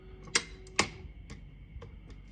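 Mechanical clicks from a Royal KHM vintage desktop typewriter: two sharp, close snaps early on, then several fainter ticks spaced irregularly, with quiet room noise between them.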